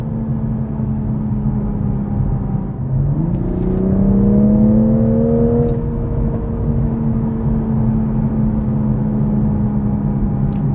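A BMW engine in sport mode hums steadily, then revs up with a rising growl, holds a higher pitch for a few seconds, and settles back to a steady drone.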